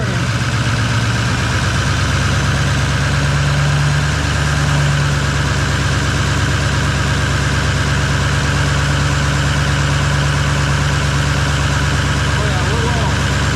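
An L5P diesel pickup with an Allison six-speed transmission idles on a cold day in Iowa, a steady low rumble with a constant hum that stays loud and unbroken, and a voice talks faintly beneath it.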